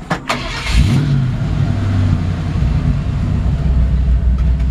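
A 1953 Ford F-100 pickup engine cranks briefly, then catches and settles into a steady low rumbling idle nearby, with no talking.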